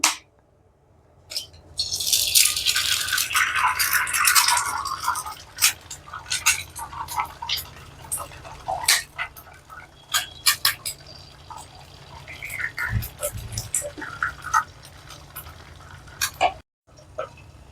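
Two eggs go into hot oil on a tawa. A loud, hissing sizzle erupts and then settles into crackling, spattering pops with scattered clatter, close and continuous, before a brief silence near the end.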